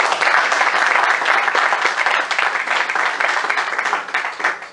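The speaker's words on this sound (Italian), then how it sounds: "entrambi io saluterei evidentemente con un applauso" An audience applauds in a hall to welcome two guest speakers at an evening talk, steady dense clapping filling the whole stretch at moderate loudness, with no voices over it.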